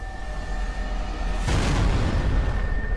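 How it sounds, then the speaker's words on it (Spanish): A sudden explosion tears apart the battleship USS Maine in Havana harbor, a loud broadband boom bursting in at about the halfway point over a low rumbling background and sustaining as a roaring blast. "cuando una explosión repentina destroza el barco."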